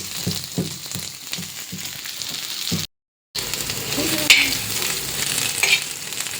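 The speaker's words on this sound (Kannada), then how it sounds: "ಸೊ ನೋಡ್ರಿ ನಾವು ಮುಲ್ಲಂಗಿ ಫ್ರೈ ಮಾಡ್ತೀವಿ." Radish frying in a pan: steady close sizzling with rhythmic stirring scrapes, a brief break partway, then continued loud sizzle.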